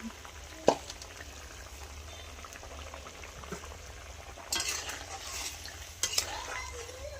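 Prawns fry in a pan for a prawn, papaya and potato curry, with a low sizzle and bubbling under clinks and scrapes of stirring, including a couple of sharper knocks.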